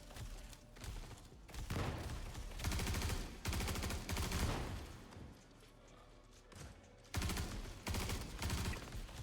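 Rapid bursts of automatic gunfire in the Star Citizen video game, dense overlapping volleys with heavy thumps in stop-start clusters, fairly loud and close, with no clear talking over them.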